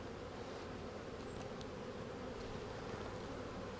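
Honeybees hum at an open beehive, a soft, steady, dense buzz that continues unbroken throughout with no voices.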